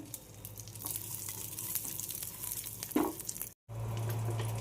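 Almonds and cashews sizzle softly in hot ghee in a pan, a steady low crackle with a faint clink of a stirring utensil, briefly cut off near the end before a hum resumes.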